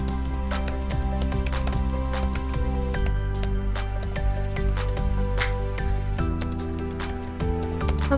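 Fingers tap steadily on a computer keyboard, a run of quick light clicks layered over sustained tonal background music.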